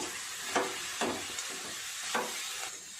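Coconut filling with cardamom being stirred in a pan for kopta stuffing, soft sizzling hiss with periodic scraping strokes of a spoon about every half second, close and fairly quiet.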